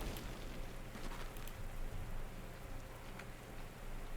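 Rain falls in the strategy video game Panzer Corps 2, a soft, steady patter of drops with faint scattered ticks, quiet and continuous throughout.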